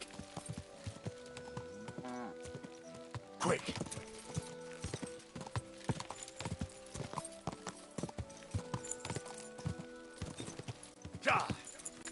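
Horse hooves clip-clop at a steady gait in Kingdom Come Deliverance 2, with game sounds and a brief spoken exclamation over the rhythmic hoofbeats.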